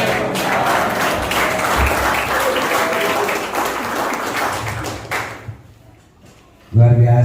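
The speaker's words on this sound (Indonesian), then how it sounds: "Sekali lagi tepuk tangan dong untuk yang putih yang kita membuka acara seminar ini" Applause at a seminar in Sukabumi, a dense burst of clapping from the audience that fades out near the end before a short voice cuts in.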